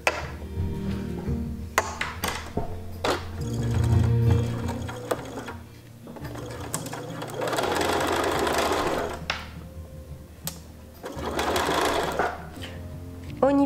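A sewing machine stitches an invisible zipper for a pair of shorts, the presser foot edge running right along the zipper teeth, in several bursts of steady whirring separated by short pauses, close and clear.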